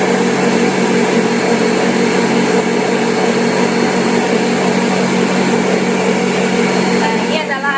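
An electric mixer whirs loudly and continuously while beating bread dough batter for roti bluder, a steady dense motor drone close to the microphone with a slight change near the end.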